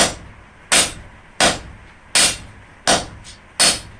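Five sharp, ringing hammer blows taper a hot steel flat bar, struck at a steady rhythm about once every three-quarters of a second, close and loud with no talking.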